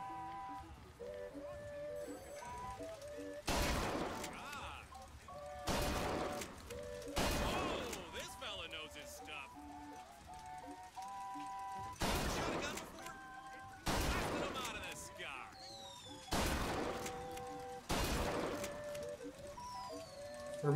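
Gunfire in Bioshock Infinite as boxes are shot out of the sky: sharp, heavy bursts of shots come every couple of seconds, fairly quiet overall, with game sounds and voices between the volleys.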